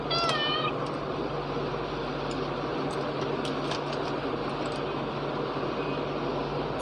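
A house cat gives one short, clear meow right at the start, then falls quiet. A steady hum of indoor background noise carries on to the end, with no speech.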